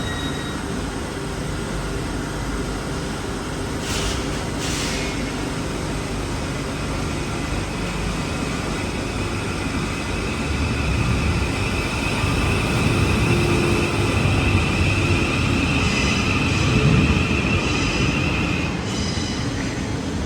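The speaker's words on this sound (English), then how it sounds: "here on our Old Street train station, we're going to get this train going out." A London train pulls out of Old Street station on the Northern Line, a loud, continuous rumble and hum of rail cars with rising mechanical whine and brief high squeals, with no one speaking.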